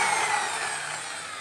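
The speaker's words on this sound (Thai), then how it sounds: "ด้านตรงข้ามกันนี่เราก็ เจาะรูไปเยอะๆนะครับ" Drilling many holes in a plastic container to make a homemade evaporative fan, a continuous gritty whirring and grinding that fades slightly toward the end, alone.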